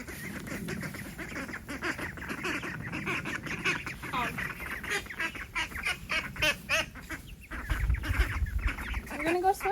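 Ducks on a homestead call with repeated quacks and honks among other fowl, a busy overlapping chorus at close range.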